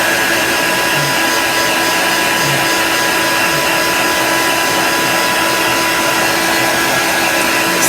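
A hair dryer blowing steadily on a homemade candy corn craft, a loud, continuous close-up whoosh and whine that holds unchanged throughout.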